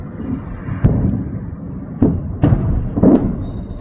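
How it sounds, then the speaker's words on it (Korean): A chain of heavy explosions at a drone storage depot on a military base in Crimea, with four deep booming blasts spaced irregularly over a sustained low rumble. "꽝꽝꽝꽝꽝 이런 폭발음이 연쇄적으로 들리죠"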